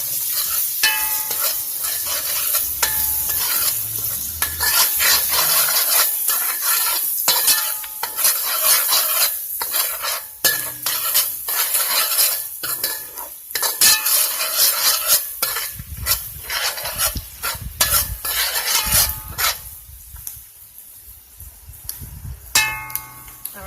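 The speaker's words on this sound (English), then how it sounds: "Now I'm going to go ahead and stir it." A spoon or spatula stirring chickpea masala in a hot pan, with repeated scraping strokes over a continuous sizzle that runs close and fairly loud before easing toward the end.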